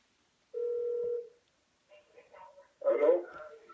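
A single electronic ring tone sounds through a phone line for about a second, followed by faint, muffled noises and a brief voice.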